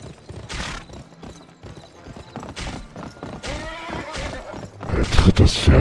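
A horse in a PC shooter game gallops with loud, steady clip-clop hoofbeats and neighs sharply, while game effects and a voice run underneath.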